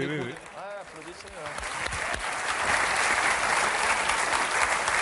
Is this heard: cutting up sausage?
no